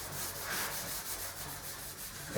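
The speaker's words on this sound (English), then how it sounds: "So we'll scuff it up with some finishing pads." Finishing pads rub steadily across a shiny bathroom mirror frame, a close, continuous sanding scuff with a faint back-and-forth rhythm.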